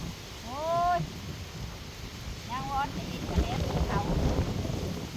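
Strong wind blowing at a rural home, a continuous rushing roar buffeting the microphone throughout, with brief voices and a few chirping calls heard over it.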